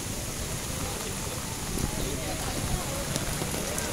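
Strong floodwater and heavy rain during Typhoon Ulysses make a dense, steady wash of rushing noise, with a person's voice faintly heard beneath it.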